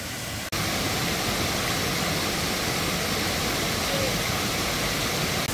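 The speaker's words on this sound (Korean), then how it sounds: "여기는 숨겨진 폭포입니다" A hidden waterfall about 7 metres high in Myungji Valley, Gapyeong, roars steadily and close by, a dense broadband rush of water after a brief quieter moment at the start.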